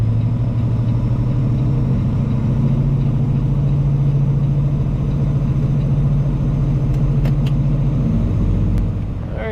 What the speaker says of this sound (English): we got another truck in here delivering as well